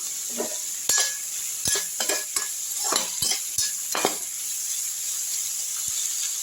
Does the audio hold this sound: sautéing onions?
yes